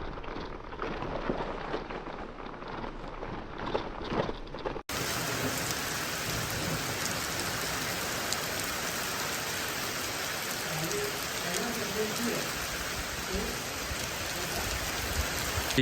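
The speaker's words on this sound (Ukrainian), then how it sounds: "Зараз ще йде дощик" Steady rain falls outdoors during a hike on an island, a dense continuous patter on surfaces close by that gets louder and fuller partway through, with no talk.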